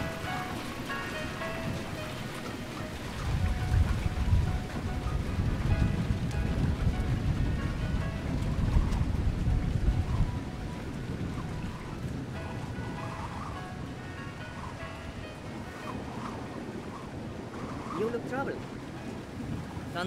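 Stormy ambience in the Splinter Cell: Chaos Theory video game, a steady low rumble of wind and rain with swelling thunder-like surges in the middle, continuous and fairly quiet throughout.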